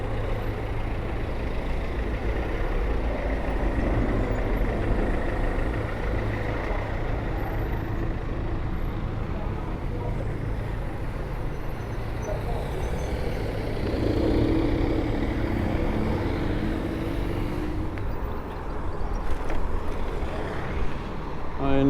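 Road traffic merging where two streets meet at an unsignalled junction in Sicily: a continuous rumble of car and truck engines passing nearby, with a brief swell of heavier vehicle noise partway through.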